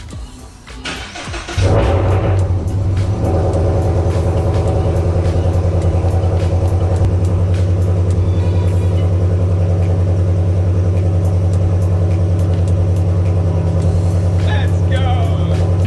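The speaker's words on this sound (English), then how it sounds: "let's go ahead and get it started up for the first time with the new Flex Fuel kit." Toyota GR86 with a newly installed flex fuel kit cranking and firing up, a brief starter whir before the engine catches, then a loud steady idle with a strong low drone that holds to the end.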